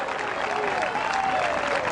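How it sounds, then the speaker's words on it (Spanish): Crowd at an outdoor church event in a park applauding, a dense, steady wash of clapping throughout, with a voice faintly over it. "Démosle un aplauso grande, grande, grande, alabanza, Señor."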